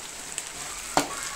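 Lechon skin and onions fry in a pan together with a steady, close sizzle and one sharp clack from a utensil partway through.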